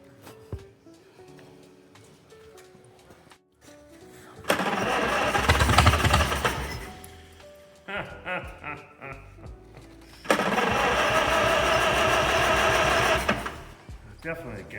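A 1949 Farmall H tractor engine that sat for years, with intermittent spark, cranks and catches in two loud running bursts, separated by quieter sputters and someone talking between them.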